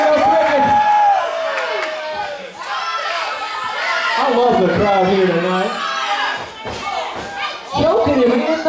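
A wrestling crowd at a live independent show roars and cheers continuously, with shouts and whoops rising and falling and occasional ring thuds, a loud, dense wall of voices.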